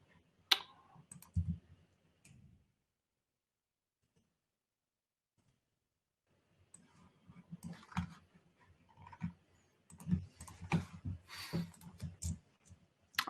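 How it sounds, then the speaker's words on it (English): Computer mouse clicks and keyboard typing, a few sharp clicks, then a long silence, followed by a stretch of irregular close tapping and clicking, with no talking. "So let's click proceed."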